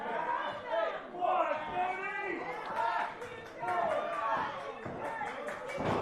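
Crowd at a live 880 Wrestling show in Pittsburgh reacting to the in-ring action, a steady wash of cheering and chatter with swells and voices calling out, talk mixed in throughout.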